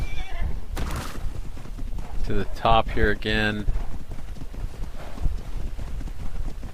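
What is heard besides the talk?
horse hooves clip-clopping while riding in a video game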